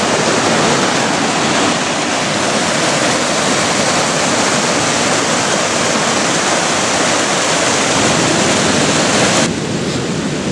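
A small mountain torrent in the Vosges near Thiéfosse rushes in a loud, steady, close wash of water that continues without a break and dips slightly near the end.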